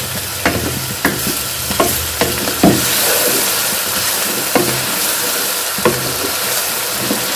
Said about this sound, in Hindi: अब इनके साथ ही मैं आलू को भी भून लूँगी, फ्राई कर लूँगी थोड़ा सा इसमें